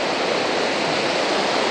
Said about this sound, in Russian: Море сегодня замечательное, красивая волна